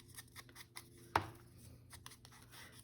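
A single sharp chop from a guillotine paper trimmer slicing through paper, close and brief amid faint rustling handling sounds.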